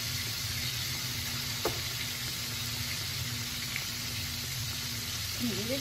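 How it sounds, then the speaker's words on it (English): Breaded food fries in a pan with a faint, steady sizzle and low background hum; a light clink stands out partway through. "Can you hear it sizzling?"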